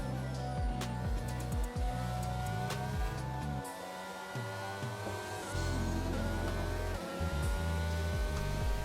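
Race car engine in a racing video game revs, shifts and sweeps steadily through gears, the pitch climbing and dropping with brief lifts; loud and continuous, no talking.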